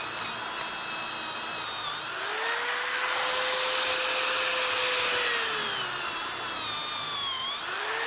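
A roughly 1.5-inch Forstner bit whines steadily as it cuts into spalted maple, a continuous high-pitched drilling drone with a pitch that rises and falls as the load shifts.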